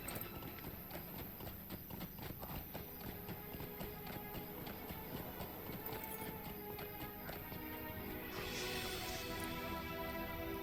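Horse hooves clip-clop steadily at a trotting rhythm in the online game Lord of the Rings Online, close and continuous over game ambience, with a brighter whoosh of effects near the end.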